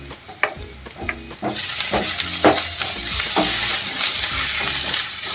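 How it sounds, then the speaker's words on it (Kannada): Ginger garlic paste sizzles steadily in a hot pan while a spoon scrapes and stirs it in a series of repeated strokes, the frying hiss building over the whole stretch, close and fairly loud with no talking. "ಜಿಂಜರ್ ಗಾರ್ಲಿಕ್ ಪೇಸ್ಟ್ ಹಾಕೊಳ್ಳೋಣ ರೀ ಗೈಸ್. ಬರೀ ಈಗ ಅದನ್ನು ಚಲೋ ತಂಗ ಫ್ರೈ ಮಾಡ್ಕೊಳ್ಳೋಣ"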